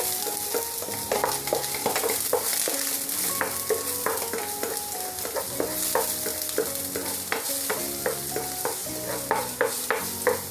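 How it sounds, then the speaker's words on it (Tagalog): Seven cloves of minced garlic stirred in oil in a pan for a beef stir-fry make a continuous close sizzle with repeated scraping strokes, running under steady background music throughout. "lagay na natin yung ating 7 cloves na minced garlic. Haluin na natin."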